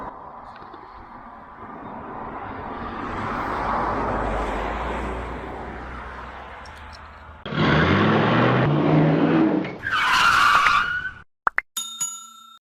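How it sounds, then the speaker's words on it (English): An old Willys M38A1 army jeep on a road trip across the Netherlands: a steady engine and road drone swells and eases, then surges into louder revving passages before cutting off into a few sharp clicks. "we are driving this old Willys M38A1 all the way back home from the other side of the Netherlands"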